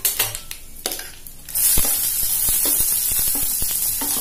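Finely chopped onions, two large ones, drop into hot oil for an egg kulambu and begin sizzling steadily after a quiet stir, with light utensil clinks over a constant frying hiss.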